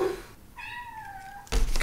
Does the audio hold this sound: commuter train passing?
no